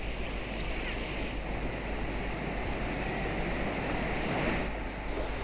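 A monsoon-swollen river, normally dry, rushes in flood, producing a loud, continuous broadband roar with no pauses.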